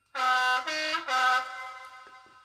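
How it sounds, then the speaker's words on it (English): A high-pitched train air horn in a simulator game blares in three quick, tonal blasts, the last one held slightly longer before the sound trails off into a fading echo. "you've got 3, which is the air horn high"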